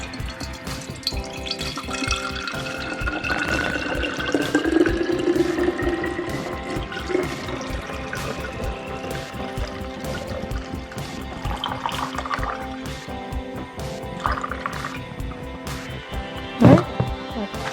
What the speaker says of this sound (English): So I'm gonna pour it.